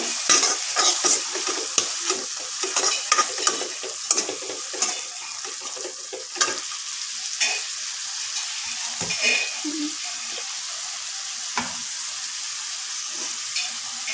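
Red chili powder is stirred into sizzling oil in a home kitchen pan, with frequent scraping strokes over a soft hiss that grows sparser and quieter toward the end.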